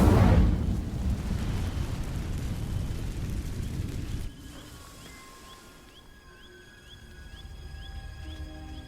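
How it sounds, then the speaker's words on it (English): In Hogwarts Legacy, an Incendio fire spell sets dry vines alight with a loud whooshing burst and roar of flame that fades after a few seconds into quieter crackling, with faint ambient tones. "These dry vines are one spark away from becoming kindling. Incendio."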